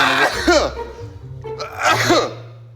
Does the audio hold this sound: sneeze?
yes